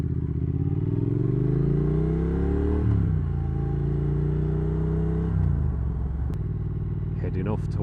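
A Triumph Thruxton R motorcycle's engine pulls hard close up while riding, revs climbing and dropping with two clear gear changes over a continuous rumble and wind noise.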